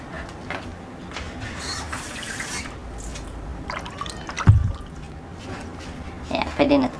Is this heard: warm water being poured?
yes